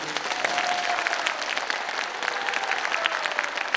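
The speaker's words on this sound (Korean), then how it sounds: "박수, 박수, 박수." A church congregation in a large auditorium at a Busan BEXCO revival service applauds in a steady, dense wash of clapping with no pauses, fairly distant and even throughout.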